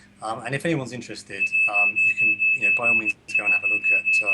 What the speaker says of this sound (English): That is my smoke alarm going off